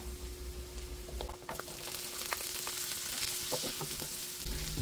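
Sliced onions frying in a pan for pork binagoongan, a continuous close crackling sizzle with scattered pops and occasional stirring scrapes, no voices.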